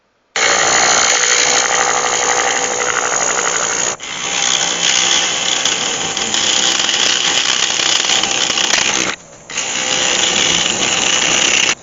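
Wood lathe taking a fast roughing cut through a resin and yew bowl, a loud harsh grinding roar broken by two brief pauses, with no voices.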